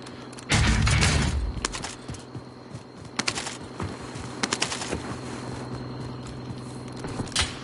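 Gunfire in a shooter video game: a loud opening burst of rapid automatic fire, then scattered single shots and short volleys at mid distance, with faint clicks between.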